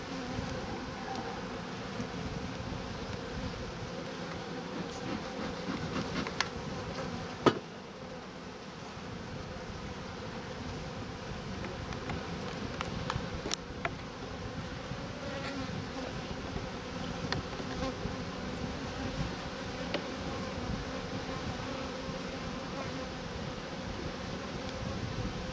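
Honey bees buzz steadily at an open beehive, a dense, continuous close-up hum of many insects with a few brief knocks and no talking.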